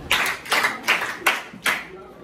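Children in a classroom clap for a classmate, five sharp, evenly spaced claps ringing out nearby, with a little background chatter between them.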